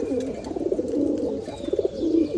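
Pigeons in a loft coo in repeated low throaty phrases, close by and alone with no talk.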